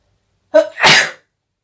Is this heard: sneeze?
yes